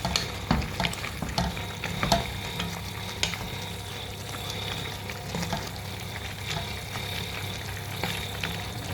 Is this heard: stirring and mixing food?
yes